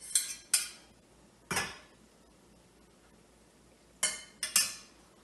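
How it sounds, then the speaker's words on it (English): Carrots dropped and scraped into a small casserole dish, a handful of bright clinks and clatters in two clusters separated by quiet. "Put all those beautiful carrots into the little casserole dish because it's going into the oven."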